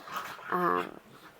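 Dogs in a home setting give a brief whimpering, whining cry with some panting breaths trailing off, close and moderately loud, with a person speaking over them.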